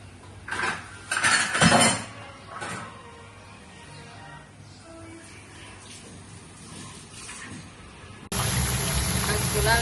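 Catla fish pieces coated in salt and turmeric go into a hot pan for doi katla; a few sharp clanks of utensils come first, then a loud, steady frying sizzle bursts in near the end.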